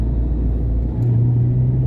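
A car on the road passing a Mercedes-Benz gives a loud, steady engine rumble up close, its tone rising into a firmer hum partway through, with no voices.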